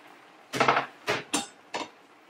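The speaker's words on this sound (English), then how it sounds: "now we're going to add in the potatoes" Potatoes tumble into a cooking pot for a vegan dish, giving one longer clattering dump and then three shorter knocks, close and clear against a quiet kitchen.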